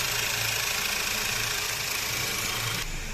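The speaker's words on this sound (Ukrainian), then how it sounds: "Отак от робить мотор." Steady, even idle from a 2013 Skoda Superb 1.8 TSI engine under repair after burning oil and a burnt valve, a close, continuous low drone with mechanical chatter that cuts off sharply just before the end, no voices.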